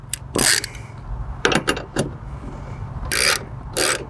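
Bolts being snugged on a box system plate with a hand tool, several short bursts of metallic ratcheting and clicking separated by pauses, close and fairly loud.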